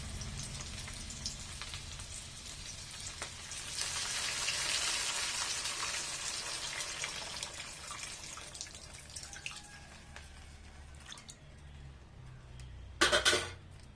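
A drumstick and tamarind kuzhambu starts to boil in a pot, giving a steady, soft bubbling and sizzling hiss with no talking.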